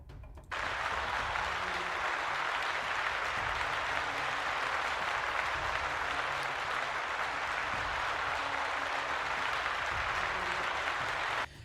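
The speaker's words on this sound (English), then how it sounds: "Let's give Brent a round of applause, please." Sustained applause from a live crowd at a tabletop D&D homebrew show, a dense steady clapping wash for over ten seconds with no talk over it, starting and stopping sharply.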